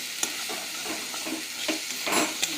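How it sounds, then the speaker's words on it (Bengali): Whole cumin and bay leaf sizzle steadily in hot oil in a kadai, a close, continuous frying hiss with a few soft scrapes of stirring and no voices. "কড়াই তেল দিয়ে গোটা জিরে তেজপাতা দিয়ে দিয়েছি"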